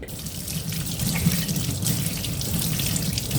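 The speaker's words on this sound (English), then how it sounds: "So we'll take it over to the sink with some cold water and wash it." Cold water runs steadily from a kitchen tap into a sink as homemade butter is rinsed under it, a close, continuous splashing hiss with no voices.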